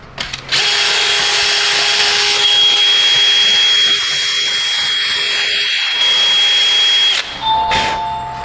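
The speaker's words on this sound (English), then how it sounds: "Come in here with the old drill and a burr" A power drill fitted with a burr grinds against a stuck Subaru rear wheel bearing, a loud, close, sustained whine with a steady pitch that cuts off abruptly near the end, followed by a brief short burst.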